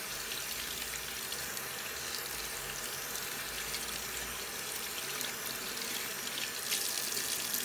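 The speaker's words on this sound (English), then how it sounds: "rinse without touching any of the surfaces around the sink." Hands rinsed under a running tap at a sink, a steady broadband hiss of water splashing continuously and close by, with no talk.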